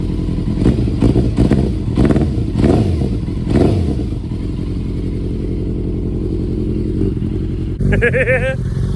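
A Yamaha FZR600 motorcycle with an aftermarket exhaust revs repeatedly with a deep, throaty growl, then settles into a rumbling idle before a final sharp burst.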